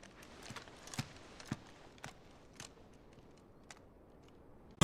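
A horse's hooves clip-clop in Final Fantasy XVI, a slow, uneven string of soft, hollow knocks at a quiet level, ending with one louder, sharper hit.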